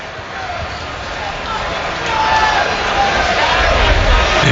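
A stadium crowd roars at Acrisure Stadium during a Bengals vs Steelers NFL game as the kicker lines up an extra point; the steady, dense cheering swells louder partway through, with commentary voices over it.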